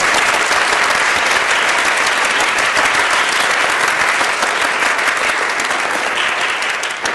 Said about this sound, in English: let's give a round of applause for all of your teachers.